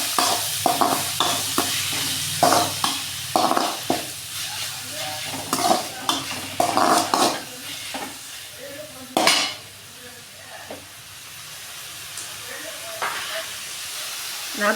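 Crushed shallots and garlic are stirred in hot oil with fennel and curry leaves for a village-style sardine curry, with loud hissing sizzle, rhythmic spatula scrapes and clanks against the pan, and faint voices in the background.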